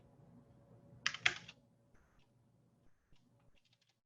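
A few quiet keystrokes and a short burst of clicks on a computer keyboard, close but faint, with sparse taps spread out afterward.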